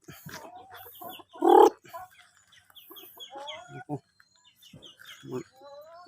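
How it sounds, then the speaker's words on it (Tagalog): Backyard chickens in a Filipino hillside yard cluck and chirp close by, with short bursts of calls and one louder squawk mixed with softer peeps from chicks. "Ito yung manok ko."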